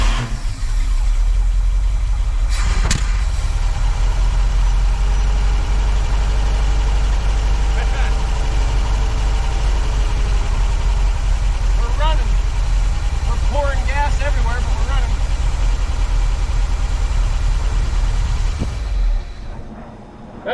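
An International Loadstar truck that sat for over twenty years cranks and runs roughly, a loud, steady low engine rumble filling the clip near the microphone, with a sharp knock early on and a few faint voices partway through before it cuts off.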